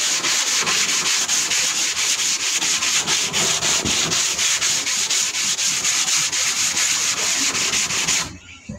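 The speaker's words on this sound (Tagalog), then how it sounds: "kailangan natin itong lihain" Plywood sanded by hand before painting, steady rhythmic back-and-forth rasping strokes, close and loud, stopping near the end.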